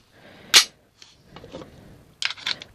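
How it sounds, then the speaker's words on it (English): Walther P38 pistol, a World War II sidearm, handled during reassembly: one sharp metallic clack as the slide locks open, followed by softer scraping and a pair of clicks near the end, close up with no talk. "Take your pistol here, take the lower, slide it over. I like to lock it open."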